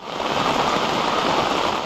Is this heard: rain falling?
yes